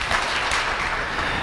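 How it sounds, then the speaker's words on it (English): Audience applause at a pediatric hospitalist partnership announcement, a steady dense wash of many hands clapping, fairly loud and continuous for a moment with no voices over it. "So let's give them a round of applause as well."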